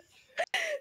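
A single sharp cough cuts off what sounds like a stifled laugh, loud and close, with a brief hush in between and a breathy tail after.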